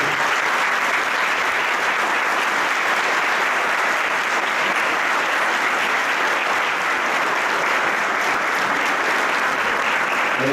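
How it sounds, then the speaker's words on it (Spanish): Sustained, dense applause from an audience fills a political campaign launch and candidate presentation, loud and steady from start to finish with no break. "le damos un fuerte aplauso"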